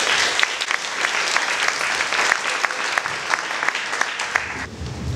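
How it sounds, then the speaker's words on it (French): An audience applauds after two panelists are introduced at a roundtable event, with sustained clapping from a sizeable crowd that fades out near the end. "Je vous demande de les applaudir."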